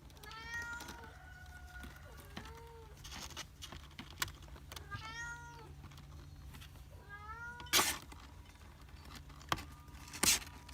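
Young kittens meowing in short, high, repeated calls, close by, over a low steady hum with occasional knocks and bursts of background noise.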